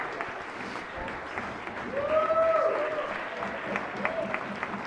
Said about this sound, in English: If we could give them a big round of applause for the Department of Legislative.